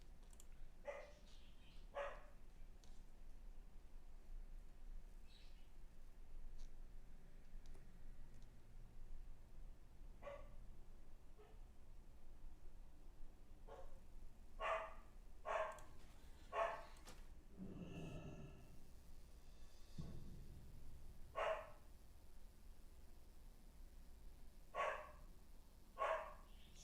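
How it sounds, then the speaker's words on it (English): A pet dog barks repeatedly in the background of a home gaming session, short sharp barks in uneven bursts, some in quick pairs, over a low hum with no talking. "Sorry about my dog."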